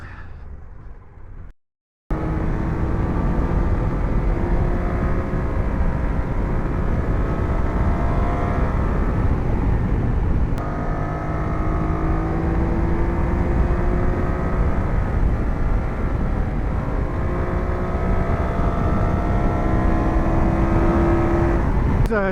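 BMW F900GS motorcycle ridden off-road on dirt, a loud, close engine drone whose pitch climbs and falls as it accelerates. A brief dropout comes near the start.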